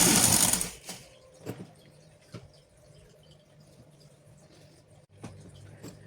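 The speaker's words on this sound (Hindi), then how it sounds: "आराम आराम से इस तरीके से हम इसकी सिलाई लगाते हुए चले जाएंगे।" A sewing machine stitching a sleeve onto a shirt gives a loud close whir for the first second, then settles into a low steady hum with a few soft knocks, with no talk.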